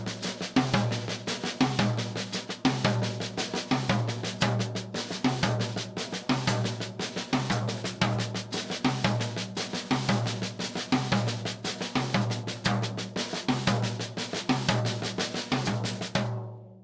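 A drum kit plays a repeating four-bar six-stroke roll phrase, dense rapid strokes with accents shifting around a crisp hi-hat on beats two and four, loud and close throughout with no voices.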